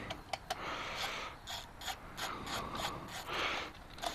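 A ratchet wrench loosens the muffler clamp on a Yamaha FZ10 (MT-10) during a Yoshimura Alpha exhaust install, giving close, quick bursts of clicking with short pauses between them.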